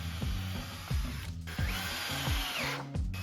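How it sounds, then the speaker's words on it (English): A power drill bores holes into a wooden beam for a garage tire rack, with repeated short rising motor whirs and a sustained higher-pitched drilling run in the middle, close and clear. "I'll just drill some holes into the beam"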